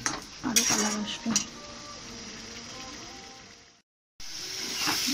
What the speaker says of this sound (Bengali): দেখো আমার 7 মিনিট হয়ে গেছে মশলাটা নাড়াতে নাড়াতে